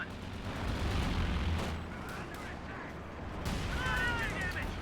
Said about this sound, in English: Butterfly bombs.